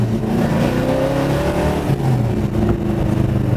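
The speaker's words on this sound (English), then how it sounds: "I like going through the gears in this baby anyway." A 1969 Plymouth Road Runner accelerates on the road through the gears, its loud, close engine rumbling and rising in pitch, then dropping briefly at a shift before climbing again.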